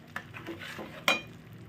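Onion, garlic, chilli and tomato paste stirred slowly in a pan over a low flame, with soft scraping, a few faint clinks of utensil on metal and one sharper clink near the end, no talking.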